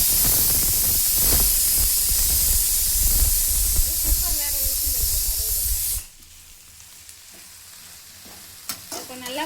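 Snack pieces sautéing in a hot pan until brown and crispy, loud continuous sizzling and frying hiss with occasional stirring for about six seconds, then a sudden drop to quiet room sound with faint clatters.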